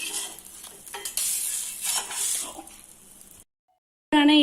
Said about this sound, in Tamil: ஆனியன் ஆம்லேட் நல்லா வேகட்டும்.